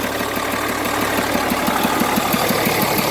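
Newly fitted engine in an M35A2 military truck runs on its first start attempt, a loud, close diesel idle with a fast, even knocking pulse and no talk.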